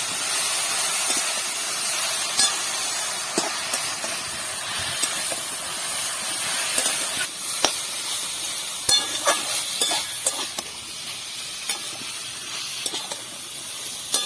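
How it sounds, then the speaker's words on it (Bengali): Pumpkin stems sautéing with chili paste in a pan sizzle and hiss steadily up close, broken by frequent scraping and clinking of a stirring spoon that grows busier toward the end. "লঙ্কা বাটা দিয়ে আমি এটাকে ভালো করে কষিয়ে নেব"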